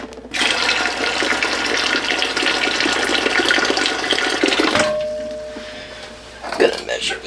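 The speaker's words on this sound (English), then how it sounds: "This is hot water into here." Hot water poured into a pot while canning navy bean soup, a loud continuous gushing stream up close for several seconds, then it stops, leaving a faint hum and a brief clatter.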